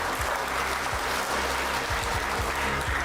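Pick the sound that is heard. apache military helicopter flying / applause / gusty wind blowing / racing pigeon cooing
applause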